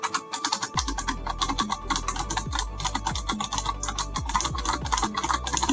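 Mechanical keys on a Razer Tartarus v2 gaming keypad, with tactile switches similar to MX Green, are pressed in a steady run of loud, close, sharp clicks and clacks, some quick and some spaced, with no talking.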